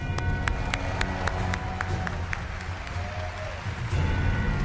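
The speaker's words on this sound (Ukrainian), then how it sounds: "Це аплодисменти нашому модератору" Audience applause and clapping from a crowd at BlizzCon 2023, a steady wash of many hands clapping that holds loud throughout with a slight swell near the end.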